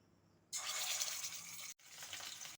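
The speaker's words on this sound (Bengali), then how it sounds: "এখন আমি মাছটা ভেজে নেব" Fish frying in hot mustard oil in a pan, a sudden steady hiss and sizzle that starts abruptly, breaks off for an instant, then resumes, heard up close and alone.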